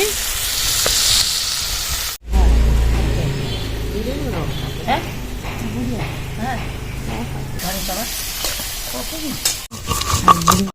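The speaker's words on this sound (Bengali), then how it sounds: "সর্ষের মধ্যে পেঁয়াজটা লাল লাল করে ভেজে দিচ্ছি" Onions frying in mustard in a pan until reddened, a steady sizzle with stirring scrapes, broken by brief cuts, while a voice talks over parts of it.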